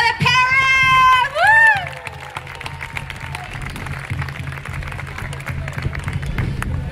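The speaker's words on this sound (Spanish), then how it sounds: "Un aplauso para la ciudad de Paris." A crowd at a recognition ceremony claps and cheers steadily for several seconds, with loud shouts and whoops near the start and rhythmic clapping continuing underneath.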